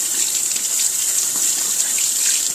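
Tap water runs steadily into a kitchen sink while a pepper is washed under the stream, a continuous bright splashing hiss with no talk.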